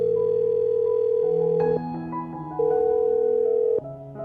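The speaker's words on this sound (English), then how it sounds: "I'll dial this phone number right now" A telephone dials a number: loud, steady electronic tones shift in pitch step by step over about four seconds, clear and alone with no voices.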